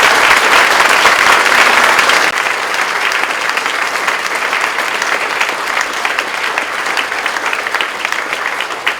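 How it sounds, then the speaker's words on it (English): A community meeting crowd claps loudly for Rural Fire Service volunteers, sustained dense applause that stays strong and even for about nine seconds, easing slightly after the start. "I just want a big clap for them."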